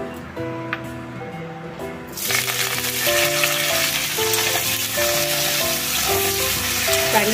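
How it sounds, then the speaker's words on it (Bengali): Black cumin, grated ginger, curry leaves and green chilli hit hot ghee and oil, setting off a loud, steady sizzle after a brief quieter start while tonal background music plays throughout. "এটা আমি ওই ঘি আর তেলের মধ্যে ফোড়ন দেব।"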